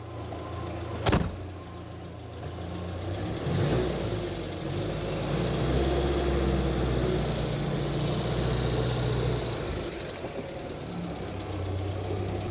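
A 1976 Volga GAZ M24 taxi engine idles while warming up, a steady low rumble with a slight knock, close by, after a single sharp click near the start.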